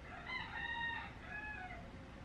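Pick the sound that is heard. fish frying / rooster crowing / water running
rooster crowing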